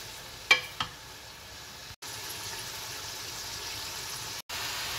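Chicken frying in a pan for Afghani karahi gives a steady, even sizzling hiss. A couple of sharp clinks come near the start, and the sound briefly cuts out twice.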